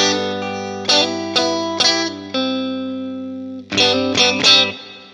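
Guitar played through a Fender Blues Junior into a Universal Audio Ox Box with plate reverb: sustained chords strummed in two groups, each attack blooming into a long, shimmering reverb tail, loud and alone with no talking.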